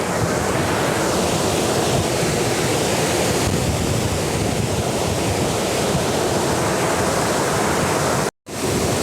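Water roars through opened dam gates after heavy rain, a loud, continuous broadband rush close by that holds steady throughout, with only a brief cut near the end.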